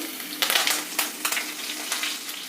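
Mustard seeds, garlic, ginger and curry leaves sizzling in hot oil for Pongal, a continuous close crackle punctuated by sharp spatter bursts as the pan is stirred.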